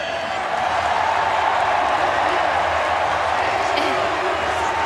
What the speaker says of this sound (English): Stand by for a cheer now